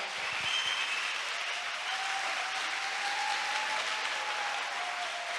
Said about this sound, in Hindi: यस वो डिजर्व करता है हमारी तालियां।